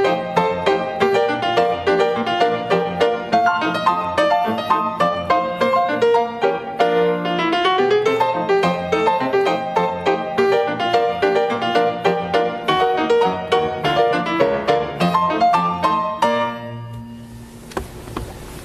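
A ragtime piano plays with both hands, a steady oom-pah bass under a syncopated right-hand melody. The playing is loud and close and rings out into a sustained final chord.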